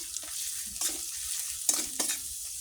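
Onion, garlic and ginger with turmeric and chilli powder frying in a pan, a constant hiss broken by several sharp scraping strokes of a spatula; nobody speaks.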